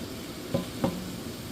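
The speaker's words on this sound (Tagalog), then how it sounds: "Tinisa ko na siya sa olive oil na may sibuyas at may bawang" Meat for spaghetti sauce sautés in olive oil with onion and garlic, a steady soft sizzle broken by two brief stirring scrapes of a utensil in the pan, close and with no talking.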